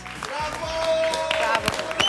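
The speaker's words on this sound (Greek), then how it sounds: "Ένα χειροκρότημα παρακαλώ και για τους οπερατέρ μας." Studio audience clapping for the camera operators on a televised cooking show, a short burst of moderate applause with a presenter's voice speaking over it.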